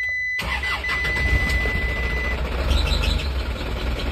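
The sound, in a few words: Isuzu Elf NMR 71 truck engine starting with the starter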